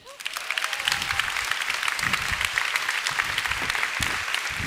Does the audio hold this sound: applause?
yes